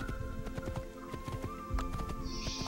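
Horse hooves gallop at a steady rapid rhythm in the Assassin's Creed video game, heard over continuous game music and ambience. A brief neigh-like sound comes near the end.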